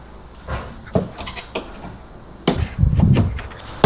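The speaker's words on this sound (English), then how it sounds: "As you can see, it's come out easily, and just like that, the headlight will come out." Headlight assembly being pulled out of a 2024 Ram 1500 by hand, giving a few sharp plastic clicks and knocks followed by a louder rattling scrape as it comes free.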